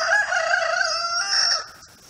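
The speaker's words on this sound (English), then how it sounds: "How many chickens are supposed to be down there?" Backyard homestead flock of hens and a rooster, the rooster crowing loudly and close in a long drawn-out call with clucking hens mixed in, fading at the end.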